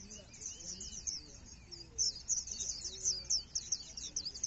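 Small caged birds chirp and twitter in rapid high bursts, fairly faint but continuous, over a low background murmur.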